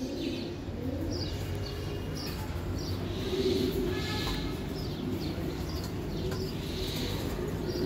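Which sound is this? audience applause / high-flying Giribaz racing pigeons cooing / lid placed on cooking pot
high-flying Giribaz racing pigeons cooing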